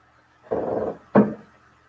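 A newly adopted dog gives two short, close barks with a rough, growly edge, a longer burst followed by a brief sharp one after a pause.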